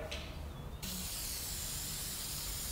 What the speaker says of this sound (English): All you need to do is give it a spray